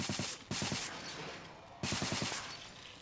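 Automatic gunfire in the video game Interstellar Marines rattles off in two rapid bursts, each a quick string of sharp shots with a ringing tail between them.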